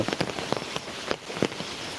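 Rain falls in a steady patter with distinct drops striking a surface, likely an umbrella, in a short close-up burst with no voices.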